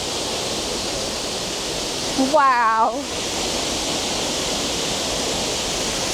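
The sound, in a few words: waterfall in Munduk, North Bali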